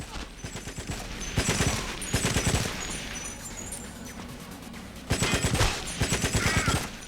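Rapid automatic fire from the AR Commando in the shooter game GoldenEye: Rogue Agent, loud close bursts of repeated shots in several volleys with short breaks between, over a steady background hum.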